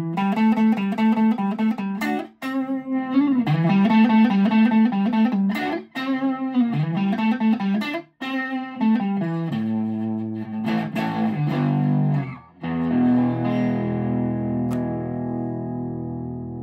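Heavily distorted electric guitar through an EF80 all-tube push-pull Class AB mini practice amp, playing crunchy riffs and chords, loud and saturated with some reverb, a sustained chord ringing out at the end.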